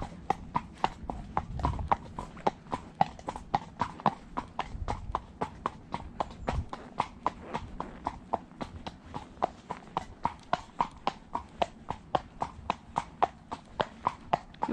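Hooves of a horse ridden without tack along a road give a steady, even clip-clop rhythm, close and clear, continuing throughout with no other sounds.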